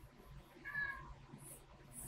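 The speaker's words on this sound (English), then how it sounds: "it's my kitty saying hi" A pet cat gives a single short meow, faint and fairly close, over a quiet room background with no talking.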